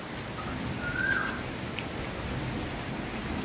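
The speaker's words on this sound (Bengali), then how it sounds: "আর বৃষ্টির শব্দটা তো অসম্ভব রকমের সুন্দর।" Steady rain falls on leaves in a village setting, a soft continuous hiss of drops throughout with one brief faint bird call partway through, no voices.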